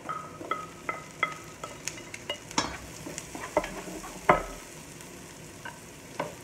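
Garlic and red pepper fry in a pan under a soft sizzle, with frequent rhythmic clinks and scrapes of a spatula stirring close up.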